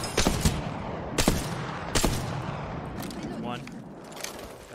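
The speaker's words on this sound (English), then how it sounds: "why are they shooting at me?" Sharp gunshots ring out during a round of the video game Apex Legends, three loud cracks spaced about a second apart over a busy background of in-game action, then quieter scattered shots.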